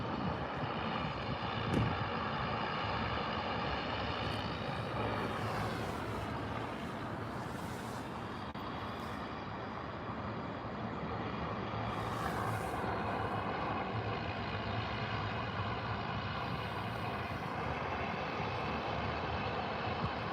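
Airplane at Calgary airport, a loud continuous jet engine roar heard at a distance, swelling and easing slightly over twenty seconds with no talk.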